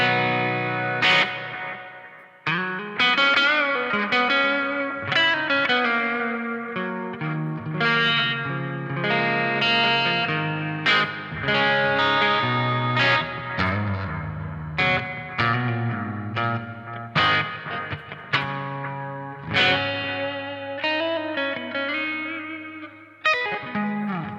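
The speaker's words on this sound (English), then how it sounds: "We have the 63 spring reverb." Electric guitar with a clean tone through a 1963-style spring reverb on a Line 6 Helix plays a run of chords and single notes, each ringing out with a washy, lingering reverb tail.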